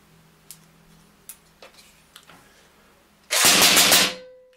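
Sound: PCP air rifle automatic fire

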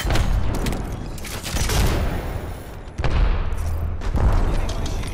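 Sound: gunfire from a video game shooter

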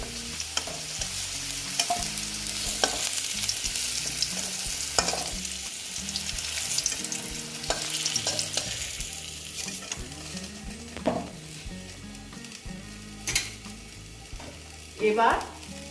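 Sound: bitter gourd (karela) frying in oil

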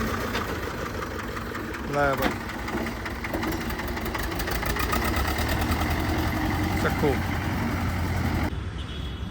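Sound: John Deere tractor engine running

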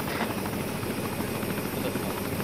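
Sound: helicopter in Arma 3 video game

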